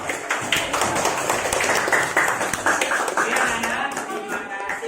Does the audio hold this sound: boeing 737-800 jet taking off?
no